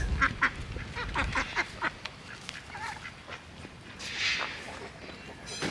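A duck quacks repeatedly beside a small feeding trough on a farm, with bursts of close, loud quacks early on and more scattered calls later over outdoor background noise.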